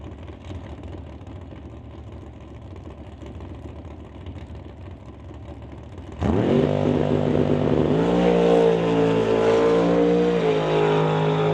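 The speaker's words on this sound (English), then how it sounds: "that is Adam DeYoung in his Camaro" Adam DeYoung's Camaro race car at a drag strip test-and-tune night, first rumbling at idle in the distance, then erupting into a loud, sustained roar as it launches and pulls hard down the track.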